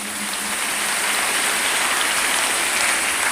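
Church congregation applauding and cheering the Lord at Pastor Marcello Tunasi's service, a dense, continuous wash of clapping that holds steady and loud from start to finish.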